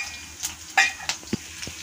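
Curry leaves and garlic sizzle softly in a pan while a utensil scrapes and clinks a few times as it is stirred.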